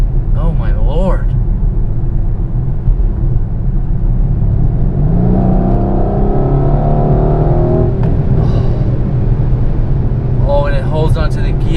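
Engine of a 2021 Mercedes-Benz GLC 63 Coupe under hard acceleration, a loud, close, continuous rumble with rising engine tones while holding a gear, with someone talking over it at the start and end.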